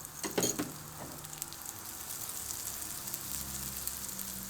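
Red pepper flakes sizzling in heated oil, a faint steady crackle and hiss with a brief sharper burst near the start, heard alone.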